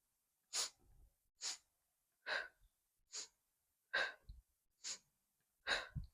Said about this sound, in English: you'll just take nice short breaths as we move